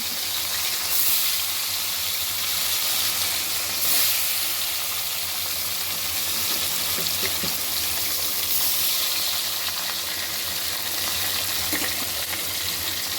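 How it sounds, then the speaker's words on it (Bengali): Fish frying in a pan for a Bengali fish-and-dal dish, a steady, loud, dense sizzle and hiss that runs unbroken throughout, close by and alone without voices. "এবার মাছটা ভাজবো।"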